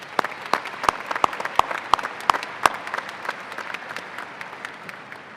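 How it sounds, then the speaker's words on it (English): Commencement crowd at a University of Montana ceremony breaks into applause, with a few sharp, close claps standing out over a broad bed of clapping that thins and fades over about five seconds. "Please give these individuals a round of applause."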